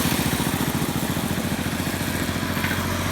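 A motorcycle engine running steadily at low speed, picked up by a helmet-mounted GoPro, with a continuous close rumbling drone and wind noise throughout.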